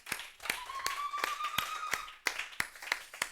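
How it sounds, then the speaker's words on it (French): A church congregation claps in acclaim during an evening sermon. The claps fall in a steady rhythm of sharp beats, about three per second, with a sustained voice or tone running underneath. "Acclamons encore pour lui."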